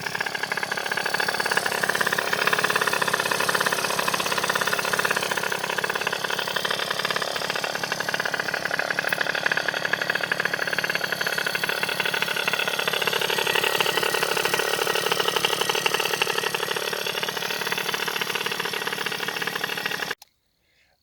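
A Peugeot 103 moped engine fitted with a BOOST cylinder head runs steadily and loudly for about twenty seconds with a constant buzzing idle, then cuts off abruptly at the end.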